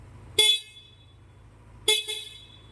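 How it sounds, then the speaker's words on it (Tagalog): A motorcycle horn gives two short, sharp honks about one and a half seconds apart over a faint idling engine, close and loud. "Yung busina niya."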